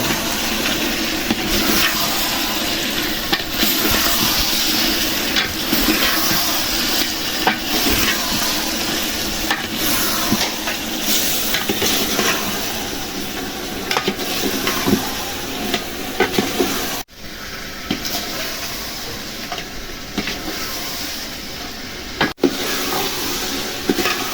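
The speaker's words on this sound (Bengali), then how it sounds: "মাংসটা আর ছোলাটা বুইনে নিলাম" Chunks of chicken and chickpeas fry for chicken biryani, giving a loud, steady sizzle and hiss that lasts the whole time, with occasional stirring scrapes and bubbling bursts, close up and without talk.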